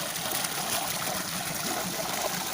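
Water from a garden hose or PVC pipe flows steadily onto soil in a rural bamboo plot, a soft continuous hiss and trickle at moderate distance with no voices over it.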